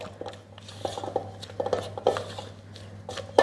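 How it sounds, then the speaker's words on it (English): A quick stir of thick blueberry muffin batter in a bowl, with soft scraping, squishy taps and light clinks of the utensil against the bowl, close and fairly quiet, no talking. "I'll just give it a quick stir."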